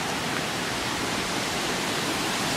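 Broadband hiss of water pouring over the waterfall at Glendale Shoals, steady and enveloping with no break, no voices.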